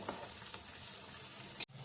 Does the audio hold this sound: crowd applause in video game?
no